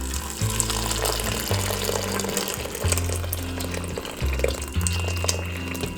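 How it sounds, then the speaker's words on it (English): Water pours steadily into an Instant Pot holding hominy, pinto beans and tomatillo, a continuous splashing rush over a low background hum with a few brief breaks. "I'm adding in water."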